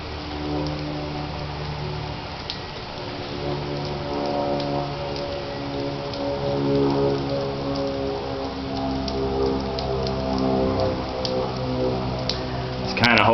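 Steady rain drumming on roofs during a sunny spell, a constant close hiss of drops with occasional louder ticks, unbroken throughout.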